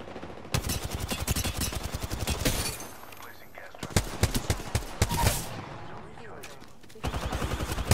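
Gunfire in a video game: loud, rapid automatic bursts crackle for a few seconds, break off into a quieter pause, then return in several more fast volleys near the end.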